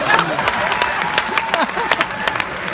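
An audience at a Hindi comedy show applauds in a dense burst of clapping that runs through the whole moment, while a voice speaks over it.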